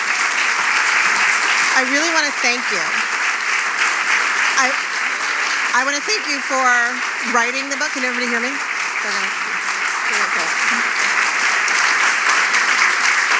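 Audience applause at a book talk with author Michele Norris fills the room as steady broadband clapping, continuing loudly throughout while a nearby speaker talks over it.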